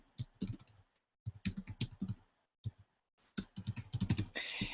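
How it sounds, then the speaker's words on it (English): Typing on a computer keyboard while setting up a to-do list in Basecamp: three bursts of rapid, close key clicks separated by short pauses, ending in a brief hiss. "Press enter on my keyboard, and I can have a new to-do"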